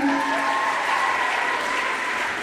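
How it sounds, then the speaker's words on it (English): Students in a school gym applaud together, a dense, steady wash of clapping that fills the whole space at close range, with faint voices mixed in. "One last big round of applause for yourselves,"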